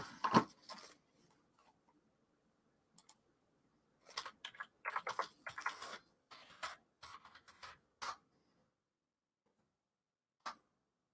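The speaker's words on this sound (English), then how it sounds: "let me type it in" Fingers type on a computer keyboard in quick bursts of crisp, close clicks. Short pauses and silences fall between the runs, then one last lone tap.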